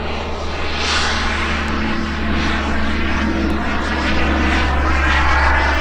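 An Extreme Flight Slick 580 RC plane flies on its maiden flight, its steady engine drone loud and continuous throughout, swelling slightly as it passes overhead, with no talk.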